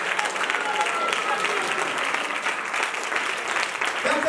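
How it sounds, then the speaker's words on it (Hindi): A large audience at a Christian church gathering claps loudly and steadily, dense applause filling the space without pause from start to end. "खड़े होकर जोरदार तालीम देगा"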